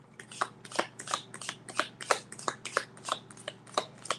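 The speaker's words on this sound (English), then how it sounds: "It's a really big deck and it's circular, but it's really thin and flexible, so it's pretty easy to shuffle." A large, circular tarot deck of thin, flexible cards is shuffled in a steady run of crisp, riffling bursts, about a dozen close, quiet flutters in an even rhythm with no talking.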